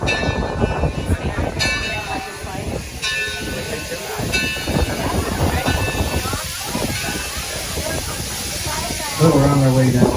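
Tourist train rolling along the track near Torch Lake, a continuous rumbling clatter of the railcar with steady rhythmic wheel noise, a voice talking over it throughout and a louder tonal burst near the end.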